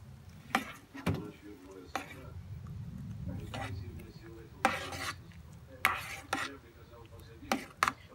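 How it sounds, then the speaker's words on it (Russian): A spoon stirs tomato soup in a multicooker bowl, making repeated knocks and scraping clinks against the pot at an uneven pace over a low, soft background. A voice may be faintly present. "Мешаю."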